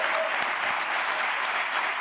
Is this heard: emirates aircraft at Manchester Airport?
no